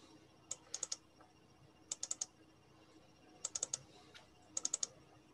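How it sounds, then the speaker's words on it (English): Someone types on a computer keyboard in short, quick bursts of three or four crisp keystrokes, repeated four times over a faint room hum. "No, there's somebody typing."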